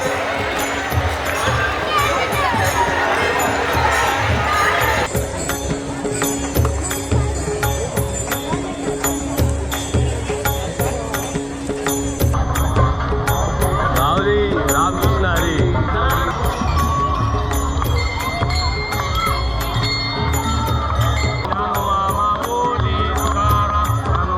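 A large crowd fills the street at the palkhi procession in Pune, a dense hubbub of many voices with bells and chiming rising through it, under a nearby voice talking.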